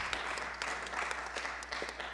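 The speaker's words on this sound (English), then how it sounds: "Let's give them a round of applause." Applause at a city council meeting, a steady patter of many hands clapping in a hall, even and moderately faint, with no talk over it.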